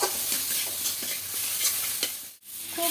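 Spice masala with salt and a little sugar being stirred and fried in a pan for fish head kalia, with a steady sizzle and repeated scraping strokes that pause briefly near the end.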